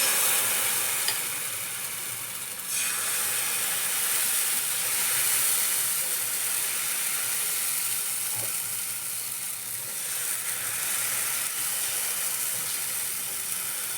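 Bajra and methi dosa batter sizzles steadily on an oiled pan, a loud, continuous bright hiss of frying that holds throughout with slight swells, close and without any talk.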